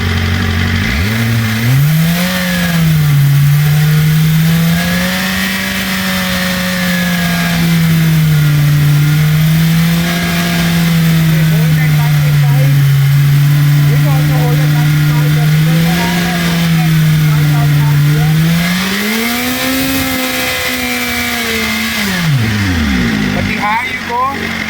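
BMW M1000RR sport bike engine with an aftermarket exhaust, revved and held high for a sustained stretch of roughly twenty seconds, loud and close, rising then settling before dropping off at the end.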